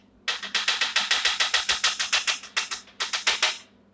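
A hot sauce bottle is banged repeatedly to shake the sauce out, giving a fast, even series of about twenty close, sharp knocks with a short pause partway through, no talking.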